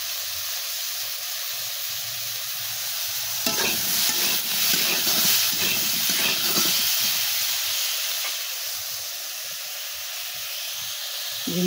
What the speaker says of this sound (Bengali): ঝিঙেটা ভাজা হোক ততক্ষণ।